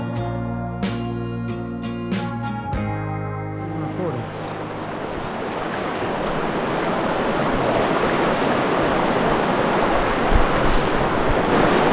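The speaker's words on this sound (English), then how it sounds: "Here's a cool little waterfall." Rushing water from a small waterfall on the Virgin River in Zion's canyon, a steady broadband roar that swells in after a few opening tones and then fills the scene, close and continuous.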